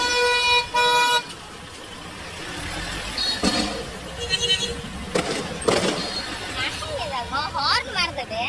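Vehicle horns honk in bursts at a crowded temple festival on a street, one long steady horn near the start, then shorter toots and a warbling horn near the end, over loud crowd babble and traffic noise.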